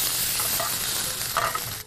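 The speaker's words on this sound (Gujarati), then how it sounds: "સાતળી લઈએ." Chopped onion sautéing with ginger, chili and garlic paste in hot oil, a steady close sizzle with a few brief stirring scrapes near the end.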